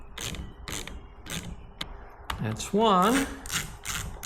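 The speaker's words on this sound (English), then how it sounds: "I'm gonna take these two bolts off." Bolts are loosened from the cover of a Stihl MS 270C chainsaw, giving sharp ratchet clicks and metallic taps in short bursts, and someone briefly speaks partway through.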